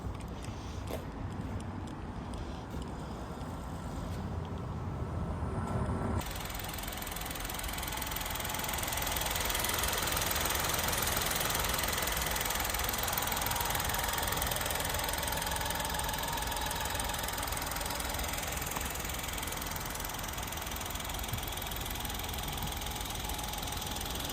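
Toyota Yaris 70 hp engine running steadily at close range, a continuous loud mechanical drone and hum that holds throughout with no talk over it.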